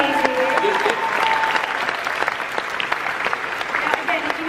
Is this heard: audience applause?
yes